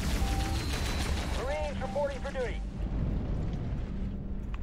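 Gunfire and explosions hitting a Rhino tank in the strategy game Halo Wars, rumbling bursts and thuds layered with whining tonal effects, while someone talks over the battle.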